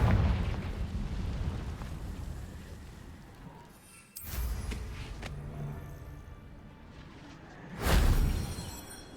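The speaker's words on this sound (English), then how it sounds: "Confringo" Confringo fire spell explosions in the video game Hogwarts Legacy, two loud booming blasts with rumbling tails, the second near the end, over a continuous low game ambience with no talk.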